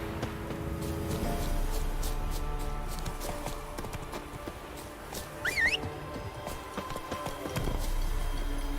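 A horse in The Witcher 3 gallops with rhythmic clip-clopping hooves, moderately close, amid game ambience and a brief whistling sound partway through.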